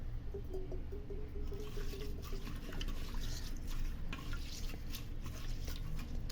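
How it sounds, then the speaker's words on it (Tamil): A handful of neem leaves being washed by hand in water, with continuous close sloshing, rustling and dripping sounds. "தேவையான அளவுக்கு தண்ணி சேர்த்து கழுவிக்கணும்"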